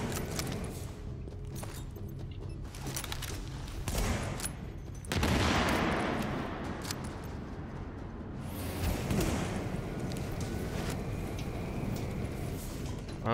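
Sustained automatic gunfire rattles through a subway morgue mission in the video game The Division, with loud bursts and swells of fire overlapping one another. Faint whooshing mechanical effects sit beneath the shots.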